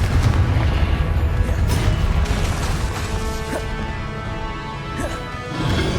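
A Confringo blasting curse explodes in the Hogwarts Legacy video game, giving a loud, sustained booming roar with heavy low rumble that fills the whole stretch and swells again near the end.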